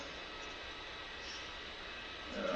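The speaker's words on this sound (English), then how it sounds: "I get a warning light that the canopy is open, so I can actually hear the engine." A steady jet engine roar with a broad hissing whine, heard in a flight game with the cockpit canopy open during a night landing, holds throughout, swelling slightly louder at the very end.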